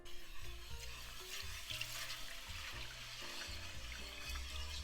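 Cream being stirred into a butter and flour roux in a pan for homemade Swedish meatball sauce, a steady close wet scraping and gentle bubbling sizzle running continuously throughout.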